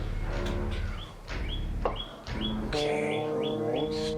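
A bird gives a series of short, bright chirps, repeated every half second or so, close and fairly loud over a low, steady background hum, with no talking.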